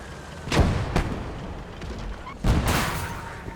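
Mortar shells bursting in the war game Gates of Hell: Ostfront, two heavy thuds about two seconds apart, the second louder and trailing into a rumble over faint background battle noise.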